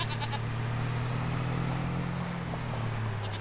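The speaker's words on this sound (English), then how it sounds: "so there are sheep, these are our goats" Goats in the Farming Simulator 25 game give a couple of short bleats over a steady low engine-like drone, moderately close and fairly faint.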